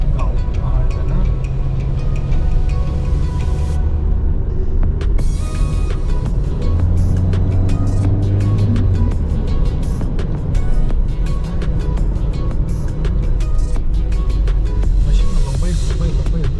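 Busy road traffic in Mykonos heard from inside a moving car: a constant engine and road rumble with passing vehicles and ticking, while people talk throughout.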